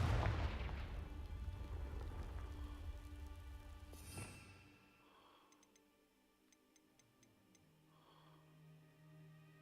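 A Confringo blasting spell explodes in the Hogwarts Legacy video game, a loud burst with dense crackling debris that fades over several seconds into quiet ambience with faint ticking.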